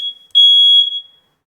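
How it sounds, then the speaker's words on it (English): A smoke alarm goes off with a loud, piercing electronic beep, one short chirp followed by a longer sustained tone that cuts off, alone in silence. "Why do I have smoke alarm going off on a Saturday?"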